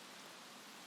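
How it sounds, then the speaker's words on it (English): Steady rainfall in the video game Escape From Tarkov, a soft continuous hiss of drops spread evenly across the whole moment, faint and unbroken with no voices over it. "It's raining, but I mean, raining does have its pros and cons."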